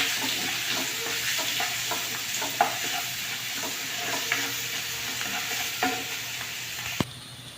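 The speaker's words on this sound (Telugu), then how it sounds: "2 పచ్చిమిరపకాయలు, 2 ఉల్లిపాయలు ఇట్లా తరిగి వాటిలో వేసుకోవాలి. కొద్దిగా వేగినాక టమాటా వేద్దాం." Chopped green chillies and onions frying in a pan for mutton gongura, a constant close hiss of oil with irregular stirring clicks and a sharp clack near the end, no voices.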